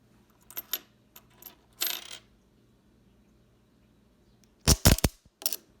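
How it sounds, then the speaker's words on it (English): Several UK pound coins slip off a magnet toy and drop, landing in scattered quick clinks early on and then a louder, denser jingling cluster near the end, close and clear with no talking. "I'm going to keep putting coins on here, but I will probably make them all fall over."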